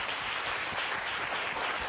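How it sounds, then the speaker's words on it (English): An evening pitch contest audience claps for all of the competitors, a brief burst of thick, continuous applause from many people at fairly close range. "Let's give all of them a round of applause."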